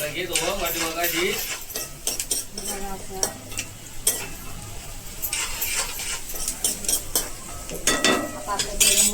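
Onion frying in hot oil in a home kitchen, a steady sizzle with scraping stirs and clinks of a spoon against the pan, voices talking over it throughout.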